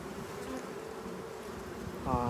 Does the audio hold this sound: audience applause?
no